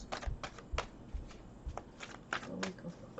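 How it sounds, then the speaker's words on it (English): Tarot cards being shuffled by hand, a series of soft riffling bursts and papery slaps at an uneven rhythm, close and fairly quiet, with a person speaking faintly in places. "Let's do some shuffling."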